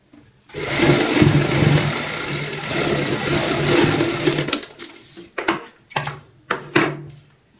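A sewing machine stitches a fabric strip onto the zip of a heart-shaped cushion cover, whirring steadily up close for several seconds, then sounding in short, separate bursts as it starts and stops.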